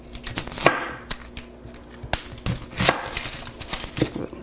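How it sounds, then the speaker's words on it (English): A knife chopping an onion on a cutting board, with sharp, irregular taps spaced unevenly across a few seconds, close and fairly quiet, with no talking. "I'm gonna cut my onion"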